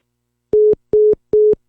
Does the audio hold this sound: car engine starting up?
no